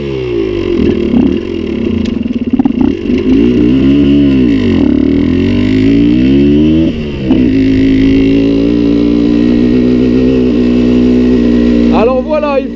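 A Suzuki 125 TSR trail motorcycle engine drones loud and close while riding onto an off-road dirt track. Revs rise and fall, and the rider talks over the engine.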